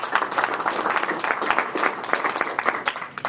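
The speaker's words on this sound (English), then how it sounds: "Round of applause" A room full of people at a startup pitch event applauds a panelist, the dense clapping steady and loud throughout with no pause.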